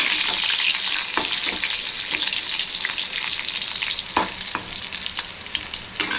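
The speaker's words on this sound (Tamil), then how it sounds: "அடுத்து 3 காஞ்ச மிளகாய் போட்டிருக்கேன்" Dried red chillies frying in hot oil with garlic for bitter gourd poriyal, a loud steady crackling sizzle with occasional sharp pops and stirring scrapes.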